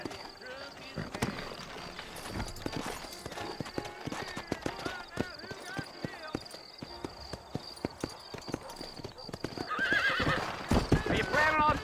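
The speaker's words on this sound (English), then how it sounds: "You ain't gonna find sturdier horses than these in all of New Ulster" Horses in Red Dead Redemption with steady clip-clop hooves, close and busy, and a sharp neigh near the end; voices talk over much of it.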